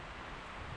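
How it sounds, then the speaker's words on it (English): Steady wind roars across an unshielded microphone on a waterfall hike, a broad continuous rush with no voices, lasting under a second. "It's still really windy."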